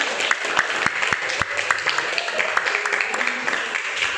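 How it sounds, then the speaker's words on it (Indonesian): A school class applauds a student, sharp individual claps in an irregular patter over a busy room, with children's voices chattering underneath. "Beri tepuk tangan untuk dia."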